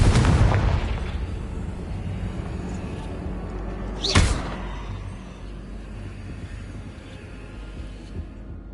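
A Confringo fire spell in Hogwarts Legacy sets off a blast, one brief whooshing burst in the middle, fairly loud, over a constant rumbling game background.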